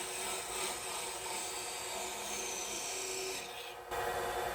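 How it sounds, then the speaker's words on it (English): Thin parting tool cutting into spinning wood on a lathe while turning a hook with a tenon, a steady scraping rasp against a continuous machine hum, fairly loud throughout with a brief dip near the end. "I've got my little thin parting tool."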